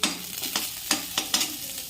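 Vada pav ingredients frying in a little oil in a home kitchen, with a steady sizzle under regular scraping stirring strokes, close and fairly quiet, and no voices.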